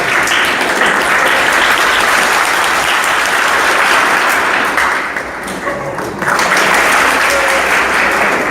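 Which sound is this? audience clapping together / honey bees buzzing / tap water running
audience clapping together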